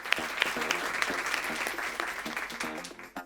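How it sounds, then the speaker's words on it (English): An awards-show audience at the Filmfare OTT Awards 2024 breaks into sustained applause, a dense, even clapping from a large crowd that carries on without pause. "A huge round of applause to ITC Fiamma for making such an important change."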